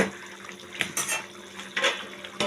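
A lid set onto a pan of cooking bhetki fish, a short metallic clatter and clink of cookware heard up close amid kitchen noise, with a couple of louder knocks spread over a few seconds.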